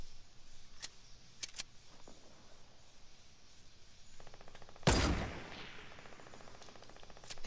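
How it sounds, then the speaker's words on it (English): Gunfire in the battle royale game Fortnite: a few sharp isolated shots early on, then a louder close blast around the middle followed by a rattling burst, over a low game ambience. "I shot their build."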